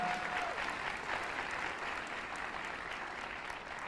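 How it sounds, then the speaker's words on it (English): Applause fills a large hall at a memorial service for healing and hope, a broad, sustained patter of many hands heard from a distance, fairly soft and even throughout. "Let's give another round of applause to our Mayor, Byron Brown."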